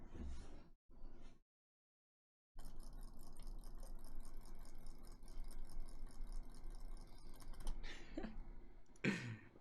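Rapid typing on a computer keyboard during a speed test, a dense rattle of quick keystrokes running for several seconds after a short pause, with brief vocal sounds before and near the end.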